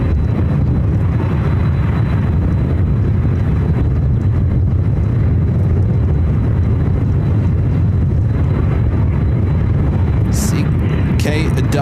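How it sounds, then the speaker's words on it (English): A Southwest Airlines Boeing 737-700 arriving at Ontario, California, heard as a loud, continuous jet roar with heavy wind rumble throughout, while someone talks over it. "Next arrival is Southwest Airlines flight 3706, coming from San Jose, California"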